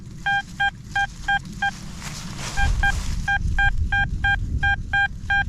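Repeated short electronic beeps from an XP Deus 2 metal detector signalling a target, in quick bursts of two or three, pulsing at a steady pace over low rumbling background noise, with a brief gap in the middle.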